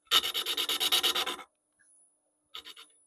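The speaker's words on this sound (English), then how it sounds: "I'm attacking this with a large detail carbide." A large detail carbide bit carving into wood, heard as a close, rasping burst of rapid rhythmic scraping for over a second, then silence and a second shorter burst.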